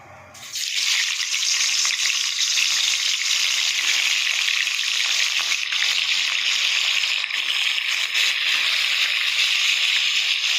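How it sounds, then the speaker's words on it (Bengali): Fish rubbed with salt and turmeric fries in hot oil in a wok, a loud, steady, dense sizzle that starts abruptly and holds without a break, close up with no talking. "এবার আমি মাছগুলো ভাজা করে নেবো"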